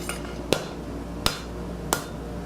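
Three sharp, loud hammer blows on hot steel pieces during a forge weld attempt, spaced about 0.7 seconds apart, each a bright ringing impact over a steady low background hum.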